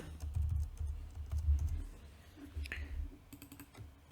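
Fingers type on a computer keyboard while coding a C trading bot, making quick, close, irregular clicky keystrokes in short bursts over a low background hum.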